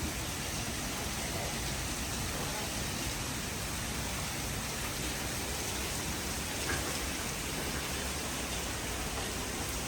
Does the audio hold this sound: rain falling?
yes